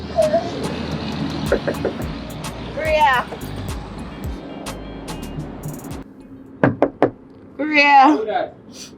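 Sharp, loud knocks hit a door in rapid bursts, mixed with shouting voices and a low background hum, followed later by more scattered raps.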